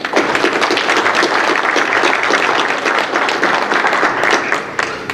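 Applause fills a town board meeting room, many hands clapping in a loud, dense, continuous burst that stays strong to the end with no talk over it.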